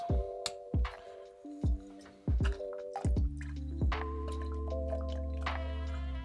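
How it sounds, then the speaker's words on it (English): Worcestershire sauce, Lea & Perrins, is dashed into a Bloody Mary, giving a few close, distinct liquid drips and plops followed by a resonant glugging fill, with no voices. "Two to 3 dashes of Worcester sauce."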